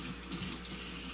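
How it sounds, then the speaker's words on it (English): Water is poured and splashed from a tap onto a 500 grit glass sharpening stone, a brief soft steady trickle, quiet and close, with no voices. "I'm just gonna splash some water on here"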